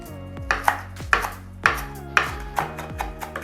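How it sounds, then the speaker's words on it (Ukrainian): A knife chops parsley sharply on a cutting board, about a dozen crisp knocks in an uneven quick rhythm, close up with nothing else heard. "нарізаю петрушку. Нам потрібні тільки листочки. Стебла всі відрізаю."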